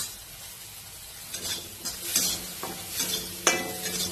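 Spices such as turmeric, a little chilli powder and a pinch of garam masala stirred in oil in a kadhai for vegetable poha, a close, steady sizzle broken by several scraping spoon strokes, no talk.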